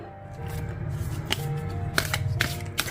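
Tarot cards shuffled by hand during a card reading, a close sequence of soft riffling and flicking bursts over a faint background tone, with no talking.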